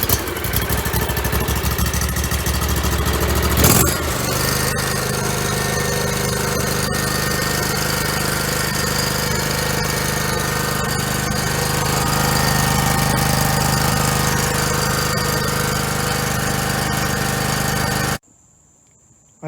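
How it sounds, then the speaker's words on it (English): The engine of a Hustler Raptor 52-inch zero-turn lawn mower with about 180 hours on it cranks and catches, then runs at a loud, steady, rattling drone before cutting off abruptly near the end. "So we're going to crank this engine up, and I'm going to show you after, 180 hours that it still does fine."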